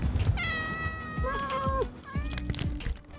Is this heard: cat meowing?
yes